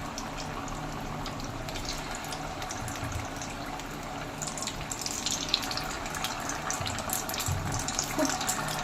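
Chhena koftas fry in hot oil over a strong gas flame, producing a dense continuous sizzle. Scattered sharp crackles and pops grow busier in the second half.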